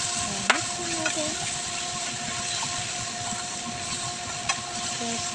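Zucchini, black fungus and pork stirred in a pan with oyster sauce, sugar and chicken powder, giving a steady sizzling hiss with a few faint utensil scrapes and clicks throughout.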